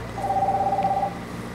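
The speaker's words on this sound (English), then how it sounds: "Somebody's calling somebody on somebody's Bluetooth." Phone dialing tone over a Bluetooth connection at a boat ramp: a single steady electronic tone lasting nearly a second, moderately loud above a constant low background hum, with no speech.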